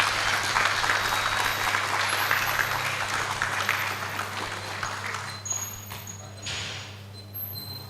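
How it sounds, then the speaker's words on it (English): Audience at the Tanzania Health Summit in Jozan Hall claps hands in a full, dense round that gradually thins and fades over several seconds, with a constant low hum underneath. "You can do more than that. Clap your hands as"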